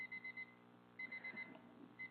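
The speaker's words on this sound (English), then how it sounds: "Oh, there's our timer." A kitchen timer beeps in quick groups of four, repeating once per second, faint and thin in an otherwise quiet room.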